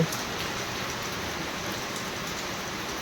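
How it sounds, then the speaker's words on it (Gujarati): Heavy rain driven by wind pours down steadily as a dense, even hiss with no pauses, close and fairly loud, with no voices. "હવે ઘણો વરસાદ આવે અત્યારે તો પલારી થી એવો પવન છે ને વરસાદ છે"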